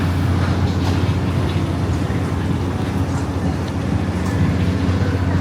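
A small ride-on train circles a track at the Ohio State Fair, giving a steady rumbling drone with a low hum, heard up close amid fairground bustle with faint voices.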